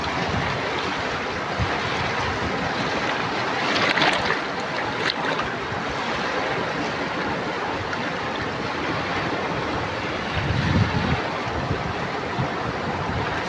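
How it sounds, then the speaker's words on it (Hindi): Floodwater rushes and surges in a steady, loud broadband roar, with a few brief swells of louder splashing, heard alone without talk. "छलांगे मार रहा है पानी"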